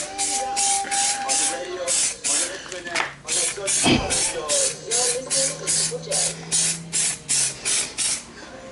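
Aerosol primer sprayed onto a Nissan Skyline R33 GTST front bumper, a series of close, rhythmic hissing bursts with short gaps, joined midway by a brief knock and a low hum.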